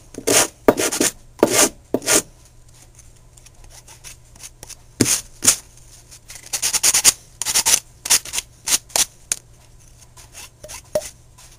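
Pipe surface of PVC rubbed clean before gluing: a series of short, dry rasping strokes in quick bursts, close and fairly loud, with brief pauses between groups and no talking.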